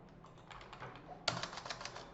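Quick bursts of keystrokes on a computer keyboard while network switch commands are entered, a short close run of clicks with a firmer tap partway through.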